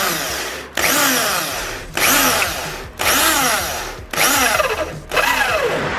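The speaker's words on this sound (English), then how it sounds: "drill a hole through our engine mounts that are welded to the chassis of the car" A power drill whines through metal engine mounts welded to a BMW E36 ute chassis in six bursts of about a second each, with short pauses between, loud and close.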